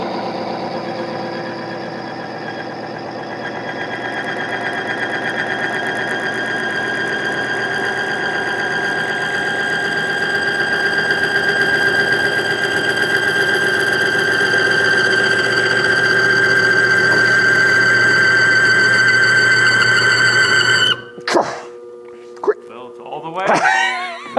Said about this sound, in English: we'll see how far it goes with MOA added to an old engine